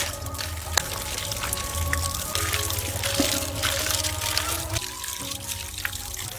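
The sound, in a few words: washing cut fish in water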